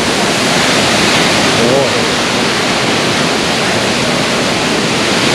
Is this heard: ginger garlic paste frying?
no